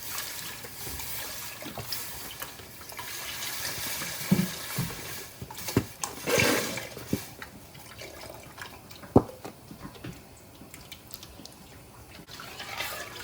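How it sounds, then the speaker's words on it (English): Reduced-sodium chicken broth, 43 ounces, poured into a soup pot for Italian wedding soup, a steady liquid trickle and splash with a few louder clinks and glugs along the way. "I'm adding in 43 ounces of chicken broth."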